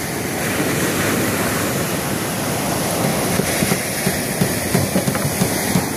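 Sea waves wash around a small boat in a steady, loud churning rush, with occasional splashes rising above the continuous surf.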